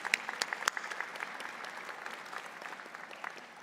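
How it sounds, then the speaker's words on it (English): Audience applause fills a convocation ceremony hall, a steady wash of many hands clapping with a few sharper claps standing out early, then settling into an even, sustained ovation. "can I ask you to give them a round of applause for all the help and stewardship they provided to you?"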